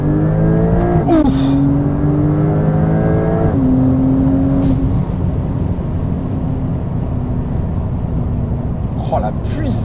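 Brabus 900 Rocket R, a Porsche 911 tuned by Brabus, accelerating hard through its gears, its loud engine note climbing in pitch with gear-change drops, heard from inside the cabin with occasional talk over it.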